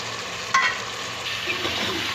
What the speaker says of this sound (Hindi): गोश्त को अच्छे से भून लीजिए आप लोग।